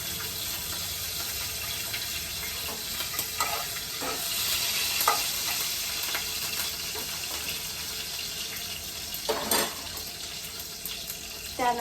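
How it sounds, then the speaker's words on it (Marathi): Cumin, mustard seeds and chili pieces sizzle in hot oil for a tempering, a steady close hiss with occasional crackles and a few light stirring scrapes throughout, no talk. "तेलामध्ये मी फोडणीसाठी जिरी मोहरी टाकत आहे जिरी मोहरी घातल्यानंतर मी मिरचीचे तुकडे घालत आहे"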